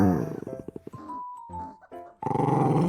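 A voice imitates a puppy's monster-like growl, a rough, throaty rumble broken into short pulses, then a drawn-out snarl and a final gravelly growl, close and loud.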